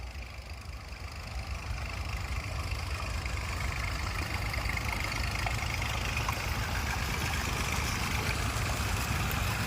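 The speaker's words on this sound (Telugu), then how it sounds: "ఇక్కడ 2 మోటార్లు అయితే ఆన్లో ఉన్నట్టున్నాయి" A steady mechanical drone from two electric water pump motors dewatering a site hums continuously nearby, an even engine-like rumble with a constant hiss and no voices.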